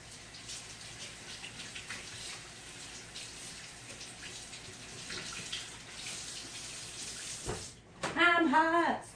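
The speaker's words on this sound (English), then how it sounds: "let me wash my hands again." Tap water running steadily into a sink during hand washing, a soft continuous splashing hiss with faint handling clatter, ending with a short burst of louder sound.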